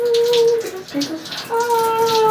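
Room temperature water pours over hair in a steady running stream with faint tonal hiss, briefly faltering midway before the flow resumes strongly; no talking.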